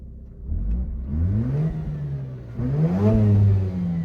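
A Mazda RX8 40th Anniversary engine revs up twice in quick succession, pitch rising and falling under load with a slight clatter, close and fairly loud, with no talk.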